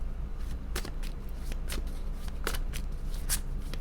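Tarot cards being shuffled by hand, a run of crisp riffling bursts and soft flicks at a steady pace, close and fairly quiet over a low background hum, with no talking.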